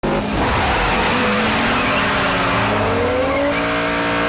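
Race cars launching hard from a quarter-mile drag race start, engines roaring loud and continuous with rising revs and tire squeal throughout.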